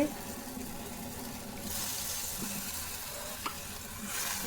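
Flour is poured into boiling water in a pot and stirred, giving a soft bubbling hiss and a brief pouring rush, with a faint voice in the background.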